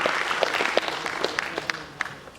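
A hall audience at a Yakshagana award function claps together, a busy spread of handclaps with several louder, closer claps popping out as the applause slowly tapers.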